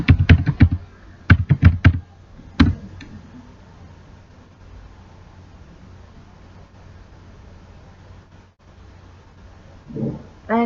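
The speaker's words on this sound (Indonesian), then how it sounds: "Di sini saya akan coba ketikkan telegram.com." Computer keyboard typing arrives as quick bursts of close, crisp key clicks in the first few seconds. A long quiet pause follows, then a short spurt of keys near the end.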